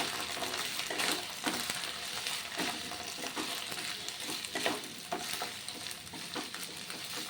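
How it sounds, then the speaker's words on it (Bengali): Potato, carrot and capsicum fry and get stirred in a pan for a vegetarian dalia pulao, with a steady close sizzle broken by repeated scraping strokes of the spoon and no talk. "এবার আলু গাজর ভাজা হয়ে গেছে, দিয়ে দিলাম ক্যাপসিকামগুলো।"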